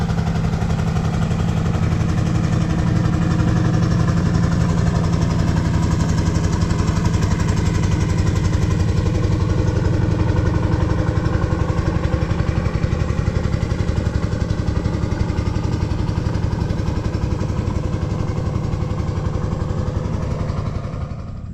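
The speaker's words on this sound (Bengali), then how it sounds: "নদী দিয়ে নৌকা যেতেছে" A motor boat engine drones steadily on a river, loud and continuous throughout with no voices, with only a slight fade near the end.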